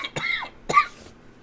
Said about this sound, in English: Good Lord. I know I'm getting this coughing fit.